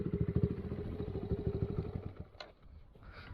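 A Kawasaki KLX110 minibike fitted with a Timbersled Ripper snow kit runs in snow, its small single-cylinder engine chugging in a fast, pulsing putter that cuts off after two seconds, followed by faint clatter.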